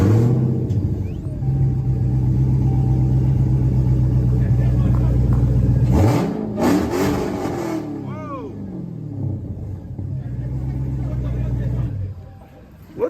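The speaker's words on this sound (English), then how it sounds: "I'm about to start a HELLCAT." A Dodge Hellcat V8 engine rumbles loudly at idle, then surges through sharp revs, with a roaring burst in the middle before settling back to a heavy idle and cutting off at the end.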